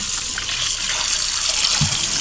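Hot water running from a tap into a sink to wash a cast iron skillet, a loud, steady gushing splash close by, continuous with a small thud near the end.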